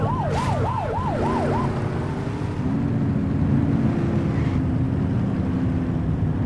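Police car siren in the video game The Precinct, a wailing yelp cycling rapidly for about two seconds, then fading under a steady engine and traffic drone.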